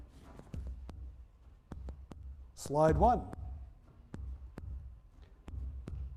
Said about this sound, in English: The headphones are amplifying their heartbeat.